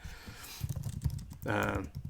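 A burst of keyboard typing while entering text in a note-taking app, a quick run of key clicks after some soft taps and movement, with a voice nearby.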